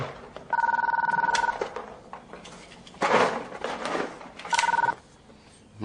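A telephone rings in two bursts of electronic trilling, loud and near, separated by a pause filled with faint clattering household noises.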